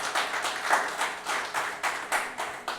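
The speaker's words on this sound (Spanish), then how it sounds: "denle un fuerte aplauso al Señor." A church congregation applauds, producing a faint, fairly distant burst of rhythmic hand clapping that comes in uneven surges and lasts a few seconds.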